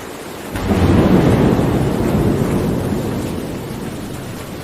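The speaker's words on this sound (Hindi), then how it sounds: "सल्तनत पर खौफनाक तूफान आया। बादल जोर से गरजे, बिजली चमकी, बारिश आबशार की तरह बरसने लगी।" A violent thunderstorm crashes in as a loud, deep rolling thunder burst that swells after a quiet start, then rumbles on with heavy rain roaring beneath it.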